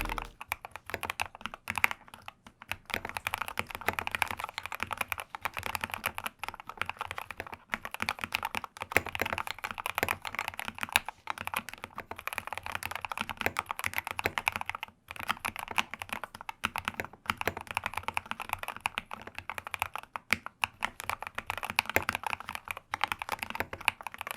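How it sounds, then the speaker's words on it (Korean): Someone types continuously on a Lofree wireless keyboard, close and fairly quiet. The keys give a brisk, uneven patter of clicks that lasts throughout, with no talking. "자, 이제 타이핑을 해볼게요."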